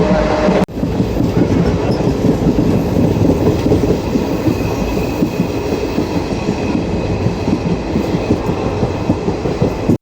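A train arriving at Virpur railway station rolls in loud and close after an abrupt start, a continuous rumble with rhythmic clickety-clack of wheels over rail joints.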